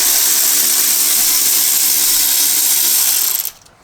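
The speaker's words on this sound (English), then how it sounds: "This is not an impact wrench, by the way, this is just a battery wrench." A cordless battery wrench spins out T30 Torx screws during fuel filter work on a Peugeot, Citroën or Fiat van with a 2.0 HDi engine, giving a loud, close, high-pitched whir that runs steadily for about three and a half seconds before cutting off.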